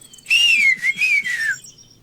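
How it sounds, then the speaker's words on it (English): A character in the video game The Longest Journey whistles clearly up close, giving two sliding, warbling notes that rise and fall over about a second, then fall silent. "Can you whistle? Like this?"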